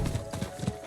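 Horse hooves clip-clopping in Diablo IV, a short run of steady, close hoofbeats at an even trotting rhythm with a low game ambience underneath.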